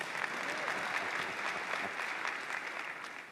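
Audience applause at the AIPAC conference, a steady dense clapping from a large crowd filling the hall at a constant level throughout.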